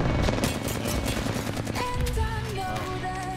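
Rapid automatic fire from a Flatline assault rifle in the Apex Legends battle royale game, a loud, dense stream of shots rattling continuously, with game effects and a faint tonal hum layered in toward the end.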